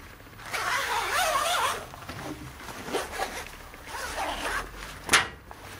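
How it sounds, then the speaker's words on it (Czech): Zipper on a padded single fishing rod sleeve being drawn open, a few long rasping zips with short pauses between them, close and clear, followed by a sharp click near the end. "Zip na tomto obalu je opět velmi kvalitní, jde snadno otevřít i zavřít."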